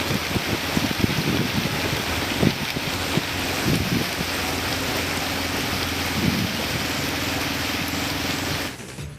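Heavy rain pours in a constant, dense hiss with some gusting wind, loud and steady until it fades out at the very end.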